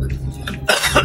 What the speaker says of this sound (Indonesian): Aduh, gawat batuk.